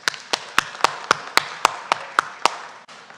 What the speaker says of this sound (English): another round of applause for Mike and Steve Martin